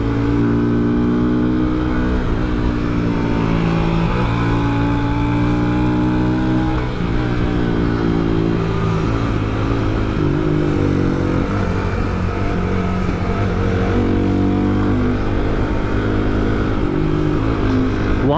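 Hero XPulse 200 4V and XPulse 230 2V motorcycles cruising and overtaking on a Himalayan expressway, a steady loud engine drone with rising revs and continuous wind rush throughout, no voices.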